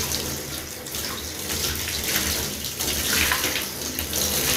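Tap water runs steadily over hair while dyed colour from a L'Oréal Paris Colorista dye is rinsed out, a continuous close splashing wash with no talking.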